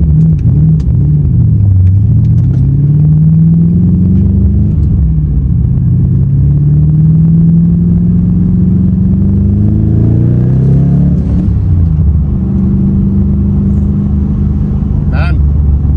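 An Infiniti G35 with over 500 horsepower rumbles steadily from inside while driving, its engine tone rising and falling as it accelerates and eases off.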